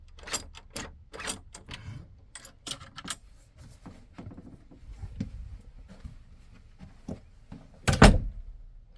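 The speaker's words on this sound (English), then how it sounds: "close the door" A hallway door in a 2003 Bounder RV is worked, giving a scatter of light clicks, latch taps and soft thunks before one loud, close thud as it shuts near the end.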